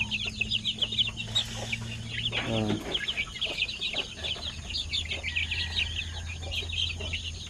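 One-month-old Shamo chicks clucking and peeping while eating, a dense, continuous chatter of many high chirps close by, with a low hum beneath and a brief sweeping tone partway through.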